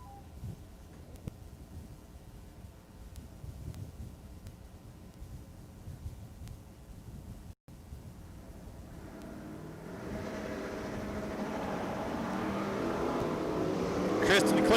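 Two Chevrolet Camaro drag race cars, one of them the Rust is Faster than Steel car, build from a quiet idle into a rising, steadily louder engine roar as they launch down the strip.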